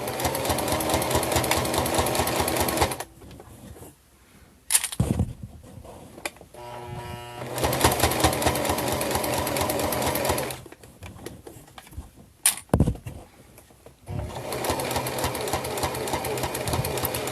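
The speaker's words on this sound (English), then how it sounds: "I'm just sewing right down the edge there to hold it down" A sewing machine runs in steady bursts while stitching down the edge of bias tape on a fabric organizer, with short quiet pauses and a couple of sharp clicks between runs.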